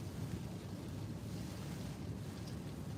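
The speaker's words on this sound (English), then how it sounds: "Very choppy ocean this morning." Choppy ocean waves churn under strong wind in the morning, a dense, constant low roar with buffeting wind noise on the microphone, steady and unbroken for the whole stretch.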